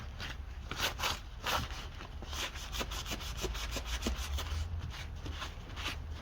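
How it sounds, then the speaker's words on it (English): Cleaner being rubbed and scrubbed over a used OEM mower part to loosen caked mud, a close, steady scratchy rubbing with repeated short strokes throughout, no talking. "Just take some cleaner here. I just want to get some of the mud off of it."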